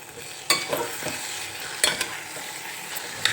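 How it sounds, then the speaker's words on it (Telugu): Spoon scraping and stirring a fenugreek and raw mango curry in a pan, with a few sharp clinks and a soft sizzle underneath; no voices. "ఒకసారి అలా కిందకి పైకి అంతా తిప్పేసుకొని రెండు నిమిషాలు ఉడికించేసుకుంటే"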